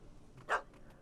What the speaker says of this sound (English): I can already hear the dog.